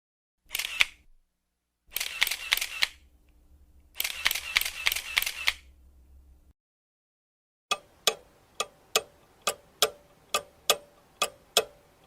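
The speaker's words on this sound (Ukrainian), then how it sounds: "клацання фотоапарату" Three bursts of rapid camera shutter clicks, then a steady clock-like ticking in an even rhythm, close and without voices.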